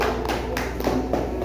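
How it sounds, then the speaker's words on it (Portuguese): A church congregation claps in praise during a service, a few distinct, loud hand claps at uneven intervals over a low steady hum. "dando uma linda salva de palmas para Jesus"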